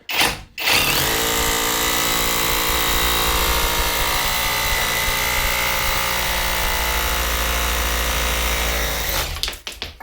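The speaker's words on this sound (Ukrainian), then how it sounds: "зараз буду самим дешевим ось тим сверлом сверлити свого каміна" A loud cheap cordless Leader rotary hammer whines and grinds steadily for about nine seconds drilling into a fireplace, starting after a brief burst and stopping abruptly near the end.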